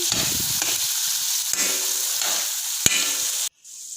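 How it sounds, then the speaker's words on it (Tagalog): Carrots and potatoes sauté in a little oil in a pan, giving a steady close sizzle with scraping stir strokes and a couple of sharp utensil knocks before the frying drops away near the end. "igisa na natin yung carrots at patatas first. Haluin lang."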